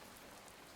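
Steady rain falls in the video game A Space For The Unbound, a soft, even hiss of drops with no breaks, faint and distant with nothing else standing out.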